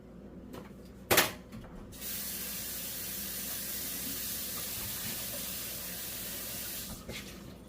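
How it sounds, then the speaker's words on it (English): Running water hisses steadily as a tea steeper and filter are rinsed out. A couple of sharp knocks come first, then a continuous spray of water lasts several seconds before it stops. "And now we just rinse it out."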